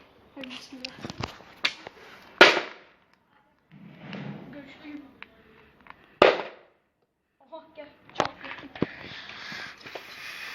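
A bicycle helmet is struck hard, producing three sharp, loud impacts spaced a few seconds apart, with people talking between the blows.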